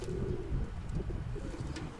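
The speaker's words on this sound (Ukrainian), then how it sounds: "Покажу своїх голубів." Domestic pigeons cooing at home, soft low repeated coos close by, overlapping in a gentle continuous murmur with no talking.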